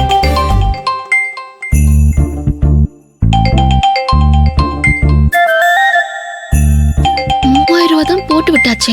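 A mobile phone rings loud and close with an incoming call, its melodic ringtone of bright chiming notes cycling in bursts and pausing briefly between repeats.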